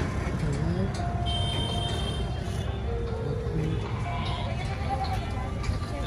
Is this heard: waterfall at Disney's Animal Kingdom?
no